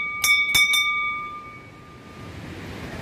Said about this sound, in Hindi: और घंटी भी बजा देते हैं।